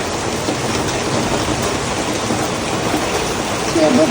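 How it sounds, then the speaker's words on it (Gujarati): Steady drizzling rain makes a continuous, fairly loud hiss outdoors, unbroken across the whole stretch with no voices. "અત્યારે ચાલુ છે ઝરમર છે બધું."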